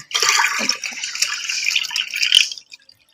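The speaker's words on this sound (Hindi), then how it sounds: "इसमें 1 जग मम्मा ने पानी का ऐड कर दिया, तकरीबन हाफ जग।" Water is poured from a jug into a yogurt mixture for kadhi, a close, hissing and splashing stream that runs for about two and a half seconds and then stops, with no voices.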